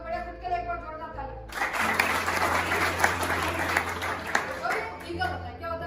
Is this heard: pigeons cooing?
no